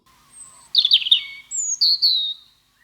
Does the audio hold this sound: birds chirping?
yes